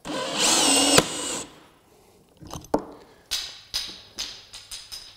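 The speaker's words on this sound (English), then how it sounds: "This time we're going to drill this in and this bit is going to snap basically upon the torque" A drill drives a Squeek No More screw into a hardwood floor: a loud steady whine for about a second, then quieter rattling and a run of sharp cracks and knocks as the bit works in and snaps.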